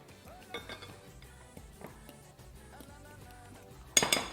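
Milk is stirred into muffin batter in a bowl, a spoon clinking and scraping against the sides in light, irregular taps, faint and close, ending with a brief louder clatter.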